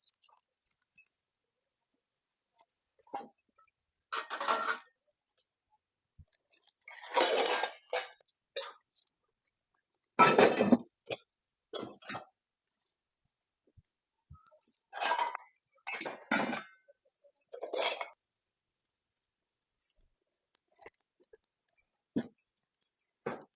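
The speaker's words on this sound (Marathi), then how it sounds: "जाऊ दे त्या नाहीये तर मी भांडे तरी लावून घेते" Washed metal pots and vessels are put away in a home kitchen, giving clanks, clinks and rattles in separate bursts, close by and moderately loud, with quiet pauses between each batch.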